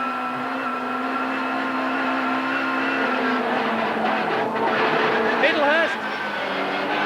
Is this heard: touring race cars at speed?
yes